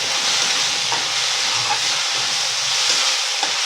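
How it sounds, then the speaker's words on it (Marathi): Tomatoes with a little salt sauté on a high gas flame for a green bell pepper chutney, giving a steady, close sizzle and hiss with faint stirring clatters. "आता टोमॅटो आपण असं छान परतून घेऊया गॅसवर."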